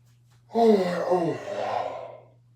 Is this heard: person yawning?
yes